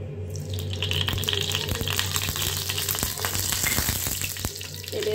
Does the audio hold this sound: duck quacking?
no